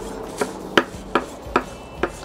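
Fresh mint being loosely chopped with a knife on a board, five crisp, evenly spaced chops close up with a short pause between each, no talking.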